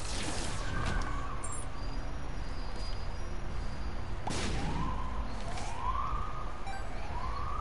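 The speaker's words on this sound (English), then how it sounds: "Wouldn't be a stream without sirens." A distant siren wails in rising and falling sweeps over steady background noise, fading in and out, during play of The Binding of Isaac: Repentance.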